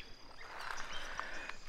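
Frogs calling near a stream among lily pads in the New Jersey Pinelands, faint chirping and trilling calls over a steady insect-like background hum, distant and quiet with no speech.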